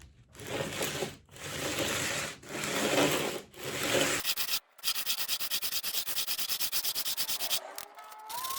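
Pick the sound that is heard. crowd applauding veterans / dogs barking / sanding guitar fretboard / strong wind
sanding guitar fretboard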